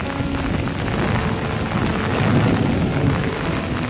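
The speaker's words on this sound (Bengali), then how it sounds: "এখানে প্রচুর পরিমাণে বৃষ্টি হচ্ছে।" Heavy rain pours steadily over a village, a dense close wash of drops striking surfaces with a low rumbling undertone and no pauses.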